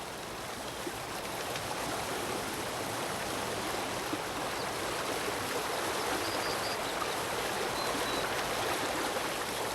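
A forest stream flows in a steady, dense rush of water that stays even and fairly loud throughout, with no voices or other distinct sounds.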